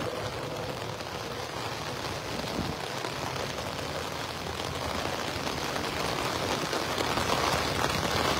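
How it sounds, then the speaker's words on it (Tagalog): Steady heavy rain from Typhoon Carina pouring down by the Marikina River, a dense continuous hiss with no break, close and constant throughout. "ang lakas na naman ng ulan"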